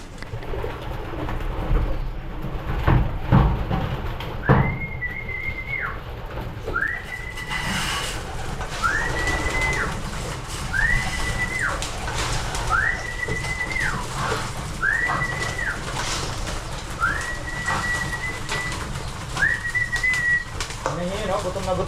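Pigeons in a breeder loft give repeated rising-and-falling whistling coos at a steady rhythm, near and clear over soft background rustling.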